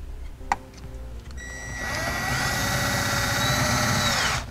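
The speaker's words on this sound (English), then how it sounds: "We'll go ahead and use the sheet metal screws to attach it." Power drill driving sheet metal screws into the bottom edge of a 2014 Mercedes dash to mount a brake controller; a brief knock, then a steady whirring drill run of about three seconds that stops abruptly, close up.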